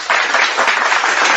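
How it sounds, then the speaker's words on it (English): A short burst of audience applause, dense overlapping clapping that starts abruptly and holds steady and loud for just over a second. "Round of applause, man."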